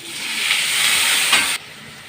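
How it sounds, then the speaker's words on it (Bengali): Water hits a hot pan of sautéed potato and pointed gourd for a fish curry, setting off a loud, close, broad steam hiss that swells and holds, then cuts off abruptly into quiet, with no talking. "এবার জল দিলাম সবজিগুলো ফোটানোর জন্য"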